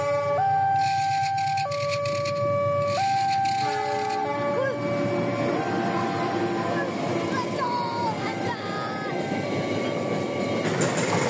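A train passes at a level crossing near Tenjo, with a two-tone warning bell or horn pattern stepping up and down over a constant loud rumble and wash of traffic noise.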